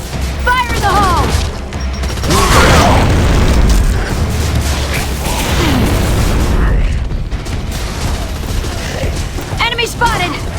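Grenade blasts in the third-person shooter Gears of War: Judgment erupt as loud, rolling booms amid gunfire and battle chaos, with shouted voices over the fighting.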